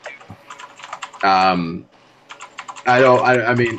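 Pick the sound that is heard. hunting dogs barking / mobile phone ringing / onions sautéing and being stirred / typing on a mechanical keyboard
typing on a mechanical keyboard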